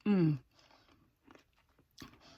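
A person crunches food while chewing, sharp close bites in short bursts after a brief spoken phrase, with quiet pauses in between.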